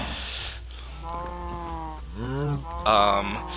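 Minecraft cows mooing in a farm pen, several drawn-out, wavering moos one after another, the last one loudest, with a low steady game hum underneath.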